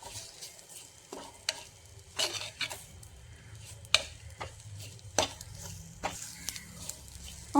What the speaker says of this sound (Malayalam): മുളക് പൊടിയുടെ പച്ച മണം മാറുന്നത് വരെ ഇതൊന്ന് നമുക്ക് ഇളക്കി കൊടുക്കാം